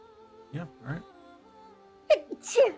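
A single sharp human sneeze breaks a quiet stretch, close and loud, with brief soft voices beforehand.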